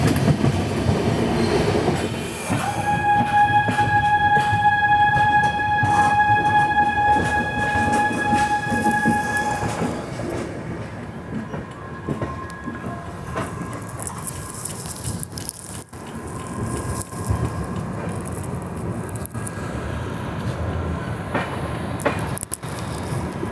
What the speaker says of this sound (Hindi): हमारी गुवाहाटी गरीब रथ एक्सप्रेस पहुंच चुकी है